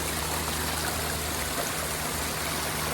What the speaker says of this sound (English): We got a nice water that's draining over, waterfall here